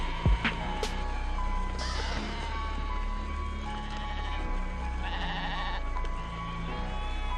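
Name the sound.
sheep bleating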